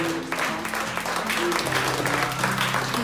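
Congregation applauding in a French-speaking church service, a short burst of steady, moderately loud clapping from a gathered crowd, with a faint voice underneath.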